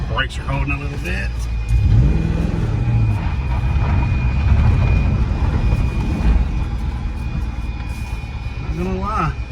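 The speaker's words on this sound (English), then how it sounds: "Got a misfire." Ford Mustang drift car with a welded differential idling and running rough with a misfire, a steady low engine drone with uneven pulses, heard close under people talking.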